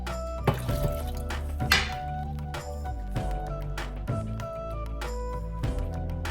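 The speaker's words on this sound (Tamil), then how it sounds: "இப்போ நம்ம இன்னும் ஒரு தண்ணி விட்டுக்கலாம்" Water poured into a cooking pan while making corn flour halwa, with intermittent knocks and clinks of utensils over a low, constant background hum.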